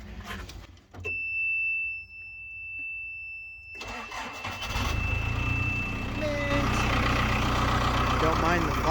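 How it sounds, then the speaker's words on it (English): A Lull 1044 telehandler, one with a flat tire, cranked on a cold morning: a short starter whine, a pause, then the engine catches and settles into a loud, steady diesel rumble, with a voice speaking at times. "We're gonna give her a quick start up."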